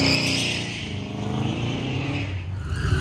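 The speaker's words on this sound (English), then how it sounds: "Matt Roberts in Grandma's Corvette." A Corvette with an LS1 V8 on an autocross course, its engine roaring loud and steady as it accelerates and turns, tires faintly scrubbing, with no voices over it.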